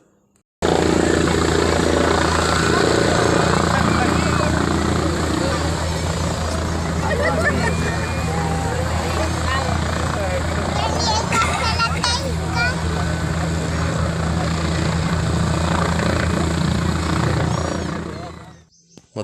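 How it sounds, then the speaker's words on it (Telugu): A loud helicopter drones and thumps steadily nearby as it lands at the Medaram temple, mixed with crowd chatter and children's voices, then cuts off abruptly near the end. "ఇంకొక హెలికాప్టర్ కూడా ల్యాండ్ అవ్వడం అయితే జరిగింది"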